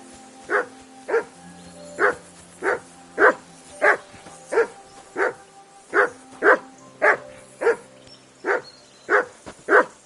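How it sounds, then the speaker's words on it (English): A dog barks in a steady run of about seventeen sharp, loud, close barks, evenly spaced across the stretch, with a low steady hum underneath. "Call off that damn dog before he wolfs down the last of our meat!"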